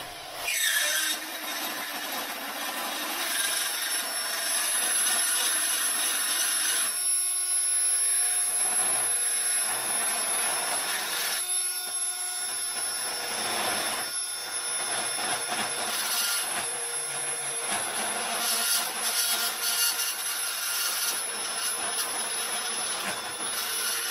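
A carbide bit cuts into an aluminum KX 450 F motorcycle frame part with a loud, continuous high-pitched grinding whine that runs almost without a break, briefly dipping a few times as the tool shifts.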